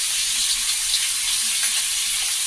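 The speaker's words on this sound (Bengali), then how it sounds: "দিয়ে আগে এগুলো ভেজে নেব" Vegetables, such as drumsticks, potato and pumpkin with salt, turmeric and chili powder, fry in an oiled pan with a continuous, dense, close sizzle that stays even throughout, with no speech.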